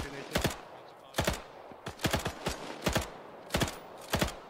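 Bursts of machine gun fire in a military video game, several short rapid volleys of sharp shots in an uneven rhythm, loud and close, with a voice calling out between them.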